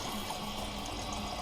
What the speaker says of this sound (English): I kept hearing the toilet run and run for a long time